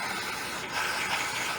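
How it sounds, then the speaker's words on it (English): Brake cleaner sprayed from an aerosol can onto the self-adjuster of a 1997 Chevy Blazer rear drum brake, a close, steady hiss lasting under two seconds. "So we're going to spray this out here with some brake cleaner."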